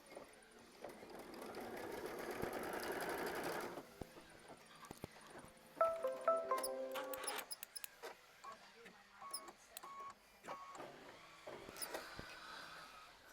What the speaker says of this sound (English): you're just going to hit start to sew out machine stitch step 12, which will tack it down for you